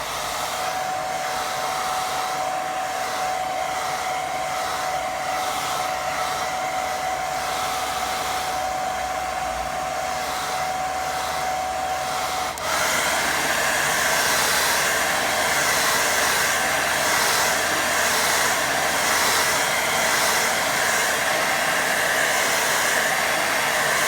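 Hair dryer blowing over wet watercolour paint, a loud continuous whooshing roar close by that shifts to a stronger, brighter setting midway and keeps running without pause.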